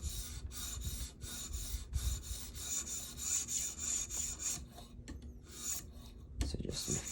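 A cheap Ozark Trail knife blade is drawn across a sharpening stone in steady, rasping strokes, each pass a gritty scrape repeating close by with brief pauses between.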